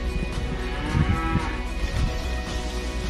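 Calves and cattle give low, drawn-out moos at an Indonesian cattle market selling young calves in Kediri. Overlapping calls swell around one and two seconds over steady crowd and yard noise.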